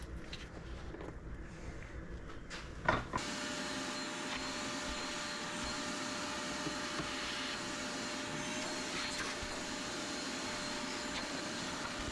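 A vacuum cleaner whines steadily up close inside an 80 Series Land Cruiser, with a soft knock just before it settles into a constant drone.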